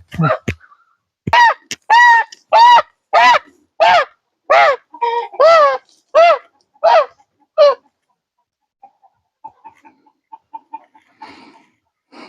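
A series of loud, harsh honks from a large grey goose sounds in quick succession nearby, then fades into softer, scattered calls against quiet.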